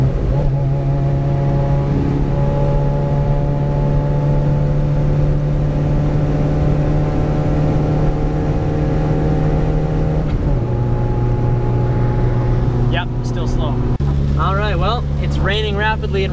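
A Honda Civic EK hatchback engine drones steadily while driving on a long highway trip, a loud, constant low hum whose pitch drops slightly partway through. A voice briefly speaks near the end.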